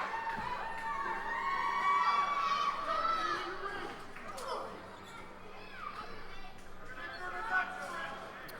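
Near-capacity indie wrestling crowd in Elizabeth, Pennsylvania roaring and shouting during a match, a loud wash of cheers and screams that peaks early then settles into excited chatter.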